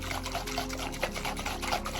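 Water is poured from a cup and shared equally into four cups, a close, continuous trickling pour over a low steady hum.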